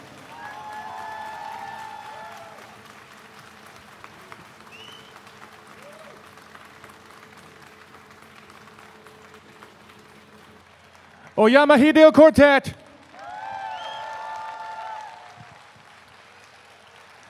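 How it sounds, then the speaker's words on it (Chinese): Audience at the 2019 Taichung Jazz Festival bursts into loud applause for about a second and a half, close and dense, between stretches of an announcer speaking. "再一次最热情的掌声"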